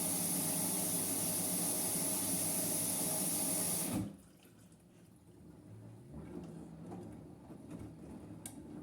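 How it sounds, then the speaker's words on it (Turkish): Arçelik 8124 washing machine taking in water, a loud, steady rushing hiss that drops sharply after a few seconds to a quieter trickle and low hum. "Tekrar da su alıyor makine."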